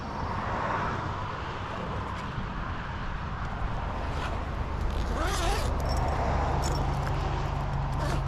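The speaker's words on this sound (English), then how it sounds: "And the zipper does go all the way around" A zipper on a Camelbak VFM pack is pulled open in a quick rasping run, heard close up over a constant low engine-like drone.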